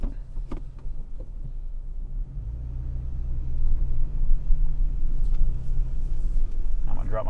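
A Toyota Tacoma TRD Pro truck crawls off-road, giving a steady low engine rumble that builds slightly toward the end, with a person talking over it.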